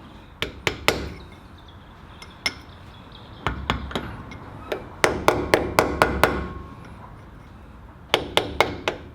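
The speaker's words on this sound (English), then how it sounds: "give him a bit of a tap on there, and then just seat him with either a drift or a screwdriver" A cold chisel is tapped with a hammer to seat a part during a front brake upgrade on a Land Cruiser 80. Sharp metallic taps come close and clear, in irregular bursts and quick runs, with no talking.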